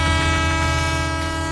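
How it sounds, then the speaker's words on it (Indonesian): A steam train passes in a 3D animated scene. Its loud, sustained whistle-like horn tone holds steady over a continuous rumble, with no voices. "kereta uap itu akhirnya bisa melintas dengan lega"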